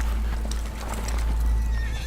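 Horses gallop away with continuous clip-clop hoofbeats, plus neighing and whinnying, a loud, busy sound with no talking.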